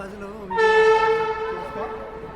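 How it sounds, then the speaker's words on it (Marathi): The Somnath Superfast Express arriving at a station, its horn blaring in one loud, sustained, harmonically rich blast lasting over a second, close and dominant over the background rumble. "आपली सोमनाथ सुपरफास्ट एक्सप्रेस आलेली आहे"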